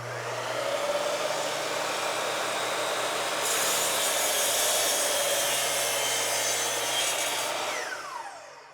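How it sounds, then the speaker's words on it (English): A Bosch Glide miter saw cuts through an 8.5-inch-wide board. The motor gives a loud, steady roar for about eight seconds, the tone shifts as the blade moves through the wood, and the sound falls away at the end. "Now I'm going to be able to cut boards 8½ inches wide with this saw without a problem."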